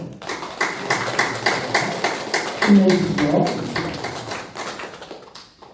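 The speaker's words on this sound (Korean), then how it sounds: "우리 공경희 권사님, 남태영 집사님 힘을 내시라고 응원의 박수로" A church congregation at a Sunday worship service claps together in encouragement, a dense rhythmic patter of many hands that carries on under a speaking voice.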